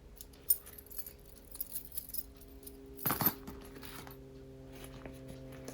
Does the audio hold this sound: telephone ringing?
no